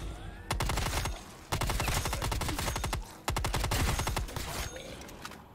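Stoner LMG light machine gun in Black Ops 3, firing three long sustained bursts of rapid automatic shots, loud and close, with short pauses between bursts.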